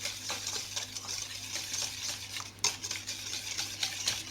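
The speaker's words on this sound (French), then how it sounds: "je mets le beurre, je rajoute le sucre. le sucre glace. Je mélange." Butter and powdered sugar are worked together in a bowl for wafer batter, a close, irregular run of scraping and stirring strokes with a sharp knock midway, no voices.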